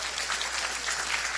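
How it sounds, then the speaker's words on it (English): Remote teams from the U.S. applaud for a brief moment, heard as a steady, slightly muffled wash of many hands clapping, even and moderately loud. "This is applause from the U.S. teams to you guys."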